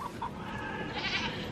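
Goats bleating outdoors near water, a steady stretch of animal calls with a brighter cry near the end, fairly close and moderately loud with no talk.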